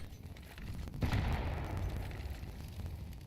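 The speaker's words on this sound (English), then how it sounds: "Nade is going to do a little damage." A grenade goes off in Counter-Strike, a single muffled boom about a second in that trails into a low rumbling decay, set against steady in-game ambience with no talk.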